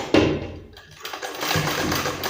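A sewing machine stitches a zipper chain onto a suit, running in a close, steady whirring hum with a short pause partway through.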